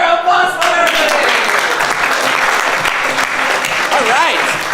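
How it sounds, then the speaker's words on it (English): Sustained audience applause fills an improv comedy show, dense and loud clapping from a crowd throughout, with a voice briefly audible near the start. "big round of applause for everybody"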